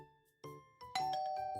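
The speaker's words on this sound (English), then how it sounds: "Doesn't take long before the doorbell rings." Doorbell rings in a visual novel video game: a series of clear chiming ding-dong tones with ringing harmonics, about four strikes building in loudness, heard alone without talk.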